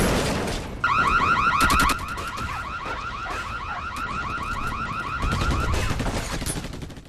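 Gunfire in the video game Battle: Los Angeles, loud rapid automatic bursts with a sustained alarm-like electronic whine over them, fading briefly mid-clip then resuming, with no talking.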